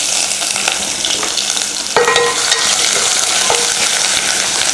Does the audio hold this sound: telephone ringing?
no